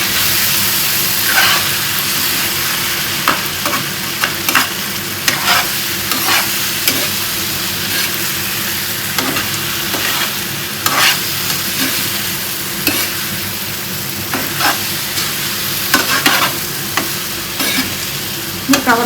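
Masala being stirred and fried in a pan over a medium flame, a continuous close sizzle broken by repeated scraping stirs of the spoon, with no voices.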